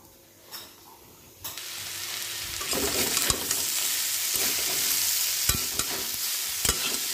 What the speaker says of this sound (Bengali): উচ্ছে ভাজা বসিয়ে দিয়েছি,